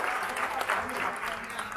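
Party guests clapping together in a steady, dense patter that fills the room, with voices talking over the applause throughout.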